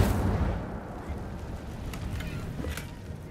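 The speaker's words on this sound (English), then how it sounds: "Incendio!" The Incendio fire spell is cast in Hogwarts Legacy, opening with a loud whooshing burst that decays into a rumbling roar, with a couple of sharper crackles later.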